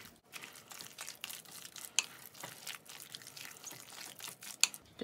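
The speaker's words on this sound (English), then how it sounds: "So I'm going to add some cilantro, and it also gives it some nice color. And just stir that all together." Soft scraping and clinking of a spoon stirring chopped cilantro into a low-carb chicken enchilada casserole, faint and close, with scattered light taps and no talking.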